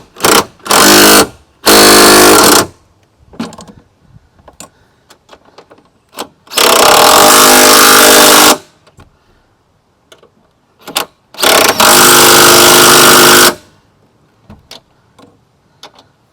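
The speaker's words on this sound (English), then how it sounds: "now I'm going to go ahead and torque these down, the top of the strut" An impact wrench or power tool tightens the strut top nuts on a 2013 Dodge Grand Caravan 3.6 L, loud repeated bursts of a few seconds each with quiet gaps and small clicks between them.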